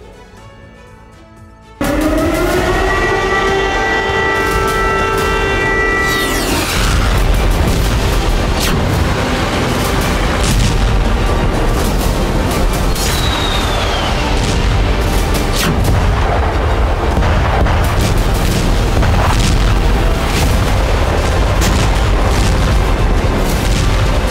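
Explosions boom in Kyiv during a Russian attack, a loud sustained barrage of heavy blasts and rumbling after a brief quieter tonal opening, with sharp cracks scattered through the roar.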